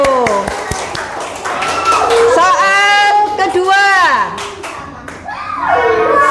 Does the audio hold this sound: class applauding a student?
yes